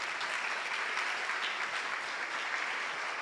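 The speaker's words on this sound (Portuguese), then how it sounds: "Pode aplaudir mesmo" An audience at a Catholic talk about Saint Thérèse of Lisieux claps steadily, a soft, even patter of many hands heard alone throughout.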